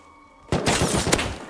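AK rifle fire in a video game bursts in after a short quiet stretch: a rapid run of loud, sharp, close shots lasting about a second, with one especially strong crack near the end.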